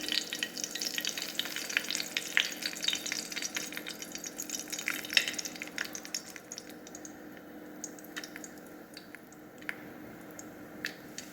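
Biryani spices sizzle and crackle in hot oil in a pan, a steady close frying hiss with scattered sharp pops that gradually quiets.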